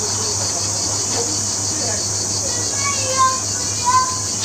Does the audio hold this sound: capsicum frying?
no